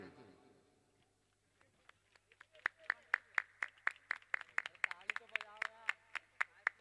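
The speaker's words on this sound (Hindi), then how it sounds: "जोरदार तालियों से स्वागत करेंगे।" At a Shri Ram Katha religious festival, people welcome an MLA with clapping that starts with a few scattered claps after a quiet pause, then settles into a sharp, rhythmic, fairly close beat with a voice faint underneath.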